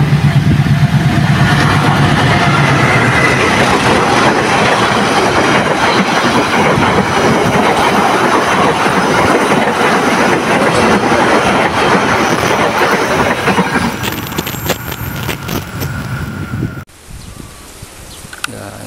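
A train rushes loud and close through the curving Kubang Kangkung level crossing, a dense continuous roar of wheels and carriages with rhythmic clatter, fading toward the end before cutting to quieter surroundings.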